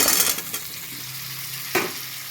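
Potatoes being stirred through a pan with ground coriander, cumin and turmeric for muri ghonto, a close frying sizzle with scraping strokes, loudest at the start, then a sharp clink of the utensil near the end.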